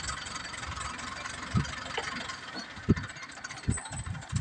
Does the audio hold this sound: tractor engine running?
yes